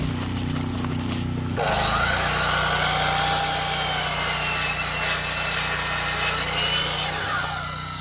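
A power saw cuts through rough-cut sawmill lumber at an off-grid cabin build, starting with a motor whine and then a sustained, loud rasping cut lasting several seconds before winding down, with no talk.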